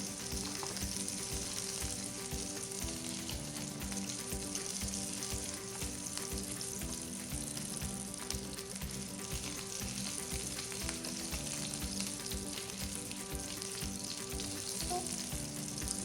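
Salmon pieces for tacos fry in hot grease, giving a dense, steady sizzle with crackling pops that runs close and loud throughout, with no voices over it.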